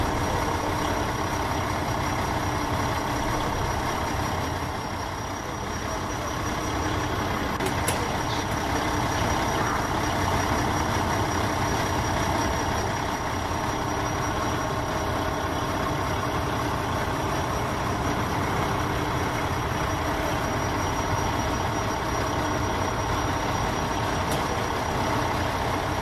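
A fire engine idles in the EmergeNYC firefighting video game, a steady loud diesel rumble with a constant high whine and faint clicks, unchanging throughout with no talking.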